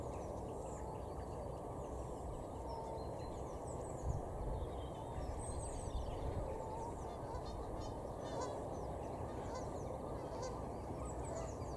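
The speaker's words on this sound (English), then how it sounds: "Oh yeah, a couple of Egyptian geese." A couple of Egyptian geese honk at a lake in Thetford, UK: faint, distant repeated calls over steady outdoor ambience, with no talking.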